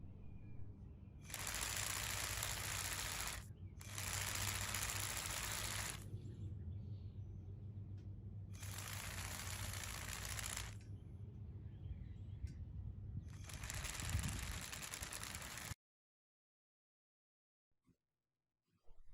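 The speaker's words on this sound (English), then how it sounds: "The pump oscillates back and forth in a configurable profile." An F800 drive pump runs its cleaning routine, oscillating back and forth in four loud, steady bursts of broadband mechanical whir separated by short pauses, then falling silent.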